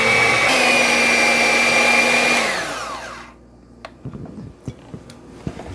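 An electric hand mixer whirs steadily and loudly through a cheesecake filling with two eggs, then winds down and stops, leaving a few faint clicks and taps.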